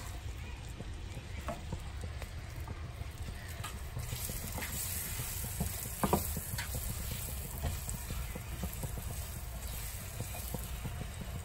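A pan of egg gravy bubbles and sizzles steadily at low volume, a continuous simmering hiss with faint crackles, no voices.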